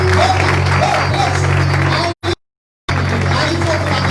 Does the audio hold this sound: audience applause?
yes